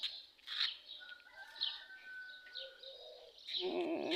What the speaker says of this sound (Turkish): Kuşlar cıvıldaşıyor.